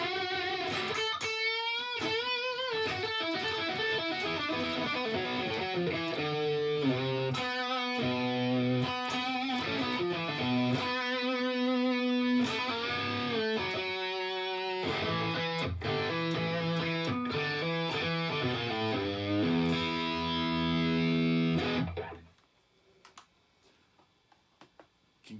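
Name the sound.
electric guitar with overdrive pedal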